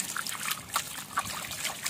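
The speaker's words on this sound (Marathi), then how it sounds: "आधी हे स्वच्छ धुवून घेऊया." Water trickles and splashes in short uneven bursts while food is rinsed clean in a kitchen, close and moderately loud, with no talk.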